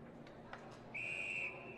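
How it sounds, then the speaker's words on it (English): At an Australian rules football match, the umpire gives one short, bright whistle blast over a low crowd murmur, and faint commentary sits underneath. "His umpire blows the whistle again, get play underway."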